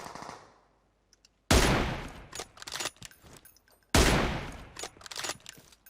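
Bursts of automatic gunfire in PUBG Mobile, two loud sustained volleys a couple of seconds apart, each followed by scattered shots, with a quiet gap before the first burst.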